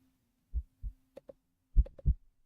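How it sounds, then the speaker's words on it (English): Heartbeat sounds: soft low thumps arriving in paired beats, close and muffled against near silence, with a faint background hum. "You feel like you can hear your heartbeat."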